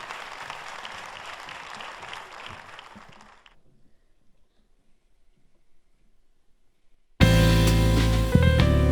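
A live audience applauds singers at a Neapolitan classic song show, a moderate burst of clapping that fades away into near silence before loud music abruptly starts.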